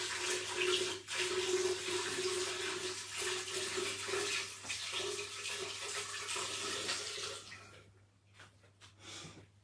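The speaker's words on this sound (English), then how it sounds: "Oh, just got water everywhere." Water pours and splashes into a vase during Halloween flower arranging indoors, a steady close gushing that runs for several seconds, then breaks into a few faint trickles and drips.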